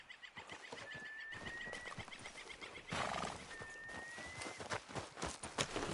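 Horse hooves clip-clopping at a steady rhythm in Red Dead Redemption II, close and continuous, with a brief whinny and ambient game sound in between.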